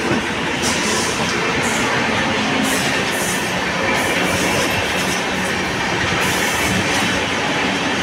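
A train runs on rails, heard from inside a fairly empty general coach of a Visakhapatnam train, with a steady loud rumble and a rhythmic clatter of wheels throughout, no talk.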